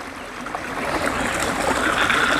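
A small brownish stream trickles down beside a mountain hiking trail, a steady close splashing and gurgling wash that grows slightly louder, with no voices.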